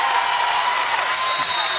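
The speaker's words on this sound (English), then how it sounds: "Getting the crowd involved" A crowd at a college women's basketball game in an arena applauds loudly and continuously in a dense, close wash of clapping with some cheering mixed in.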